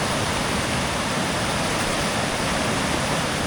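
A flooded river and waterfall rage during a storm, with loud, dense, continuous rushing water close by and no voices.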